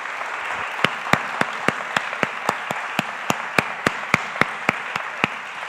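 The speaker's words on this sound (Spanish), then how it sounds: "Un fuerte aplauso para Pamela y para Paco." Applause at a conference closing session sounds as a steady crowd of clapping with sharper individual claps cracking out at a regular rhythm, close and moderately loud, without talk.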